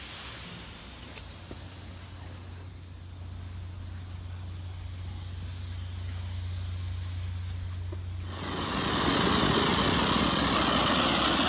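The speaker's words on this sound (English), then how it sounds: "And this is the example of the steaming manhole cover." Special-effects steaming manhole cover fed by a 2-horsepower boiler through hoses, giving a continuous broad hiss with a low engine-like hum beneath, then swelling into a louder, fuller rush of steam near the end; no one speaks.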